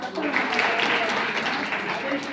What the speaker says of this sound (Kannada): ಶಾಲೆಗೆ ಚಪ್ಪಾಳೆಯನ್ನು